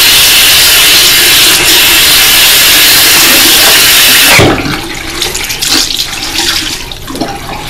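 A bathroom tap runs steadily as water flows to wet a mirror over the sink, loud and continuous, then cuts off partway through and leaves faint drips and handling noises.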